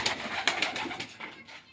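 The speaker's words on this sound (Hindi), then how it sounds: "ये हमारे काले कबूतर का जोड़ा" Pigeons coo softly in a few low, throaty calls, close by with no talking.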